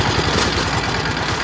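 A tractor engine idles steadily nearby with a low, even chugging rhythm, readied for a trip to fetch water in a village with water shortages.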